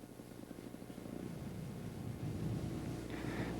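A Weedhopper ultralight aircraft's small engine drones in flight, a steady rumbling pulse that shifts in pitch as the throttle eases back, heard continuously with wind noise and no talking.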